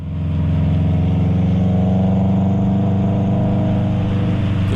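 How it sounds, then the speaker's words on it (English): Subaru boxer engine with unequal length headers, the horizontally opposed engine giving its classic lumpy rumble; a loud, steady idle close by that holds throughout without speech. "The Subaru's horizontally opposed boxer engine and unequal length headers give it that classic Subaru rumble."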